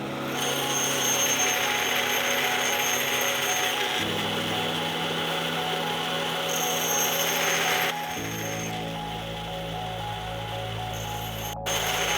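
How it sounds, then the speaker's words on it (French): A table saw in a sawmill drones loudly and continuously, its pitch shifting as the circular blade works through wood, with a sharp click near the end. "opérateur d'une scie circulaire à table"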